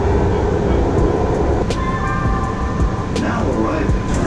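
A passing train under steady loud rumble with a brief siren-like wail, heard near a rider on a BMX bike in an urban neighborhood; continuous dense noise without clear talk.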